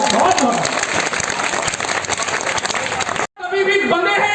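Dense applause from an audience at a Hindi poetry recital (kavi sammelan), loud and sustained with a crowd roar, briefly cut off near the end before resuming.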